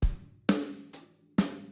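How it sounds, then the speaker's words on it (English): A drum kit groove played with a closed hi-hat: four sharp, close hits about half a second apart, each pairing a low thump with a crisp, quickly decaying top end. "if we just went to a closed hi-hat, it would sound like this"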